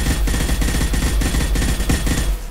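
Rapid automatic gunfire from a Mass Effect battle, weapons firing at tubes in a steady, loud, continuous stream of close shots with no pause.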